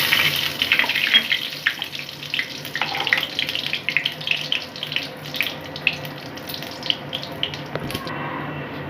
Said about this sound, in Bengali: এখন আমি এই তেলে জিরে ফোড়ন দিয়ে দিলাম